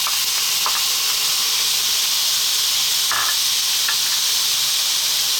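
Tomatoes dropped into a hot pan of garlic while cooking Ethiopian eggs, giving a constant loud bright sizzle and hiss with a few small stirring clicks, with no voices.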